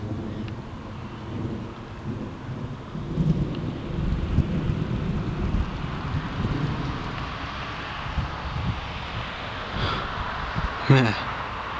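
Thunderstorm rolling in on a July evening, with broad low rumbles of distant thunder over a steady wash of rain and wind buffeting the microphone, a sharper crack arriving near the end.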